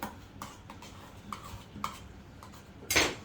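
A spoon stirs tartar sauce in a bowl, with several light scrapes and clinks spaced irregularly, ending in a louder clatter, close by.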